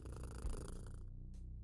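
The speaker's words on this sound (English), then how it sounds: "Can I pet the kitty real quick?" A cat purring in the video game Kathy Rain 2, a steady, close, low rumbling purr that continues throughout alone.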